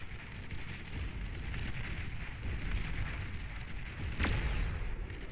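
Tiger tanks tear down windmills in a Beyond All Reason match, producing a steady rumble of explosions and impacts with one sharp, loud blast near the end.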